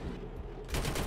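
An automated base camp turret in Killzone Shadow Fall online multiplayer fires a fast, dense burst, loud and close, growing stronger partway through, with no talking.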